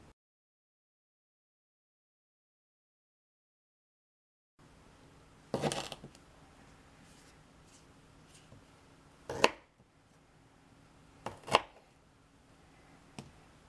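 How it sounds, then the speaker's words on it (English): A knife cuts through ginger root on a board in a quiet room: after several seconds of silence, three or four sharp, isolated chops ring out close by, separated by pauses and faint rustling. "I've cut the ginger up into some growable pieces"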